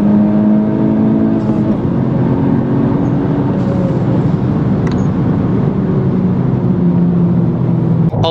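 A Honda Civic Type R accelerates hard in fourth gear, its engine note rising steadily and loudly from inside the car throughout, with no talking.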